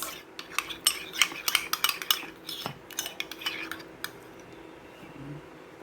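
Utensils clink and scrape against a bowl or dish while homemade pizza topping ingredients are mixed together, a close run of sharp, irregular taps and stirring scrapes that thin out toward the end.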